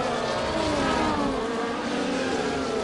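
Formula 1 race cars, a Ferrari among them, in the F1 24 racing game at the Dutch Grand Prix, a continuous high engine whine that rises and falls in pitch, loud and unbroken with no talk.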